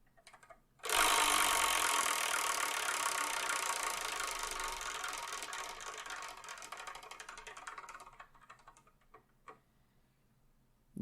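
A Wheel of Fortune style prize wheel spun hard, a loud rapid ticking rattle that starts abruptly, runs steadily for several seconds, then slows into sparse clicks as it stops, with no talking.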